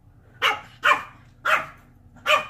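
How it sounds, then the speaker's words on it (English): A female dog barks four times near a garage door, sharp and loud close up, with evenly spaced pauses between barks. "look what the heck she's barking at"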